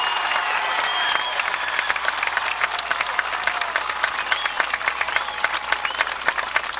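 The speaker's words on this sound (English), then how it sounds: "How about a round of applause for two outstanding football teams?" A stadium crowd at a high school Class C championship football game applauds the two teams. Dense, steady clapping carries on throughout at a moderate distance, with faint scattered cheers mixed in.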